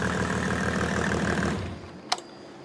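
Mercedes OM606 diesel idling after injection pump calibration: a steady, close, low rumbling beat for about a second and a half, then the engine note drops away and a single sharp click follows.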